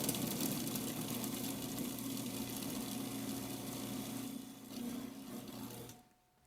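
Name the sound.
Roboku food processor grinding crab burger mixture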